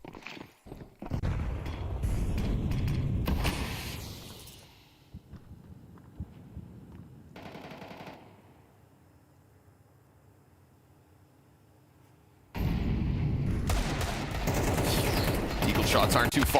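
Gunfire during a Counter-Strike match at the BLAST Open Rotterdam 2026 esports event, loud bursts of shots at the start, a quieter stretch, then heavy sustained firing returning near the end.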